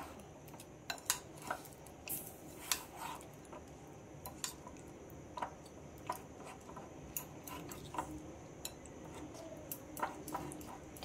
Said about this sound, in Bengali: তো দেখো একটা চামচ দিয়ে এবার এটা আমি ভালোভাবে মাখিয়ে নেব।